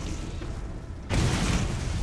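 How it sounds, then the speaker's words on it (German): A sudden loud gunshot blast in the video game Borderlands, hitting abruptly midway after a quieter stretch of game ambience, then sustaining as a booming rumble. "Woher kommt der Schuss?"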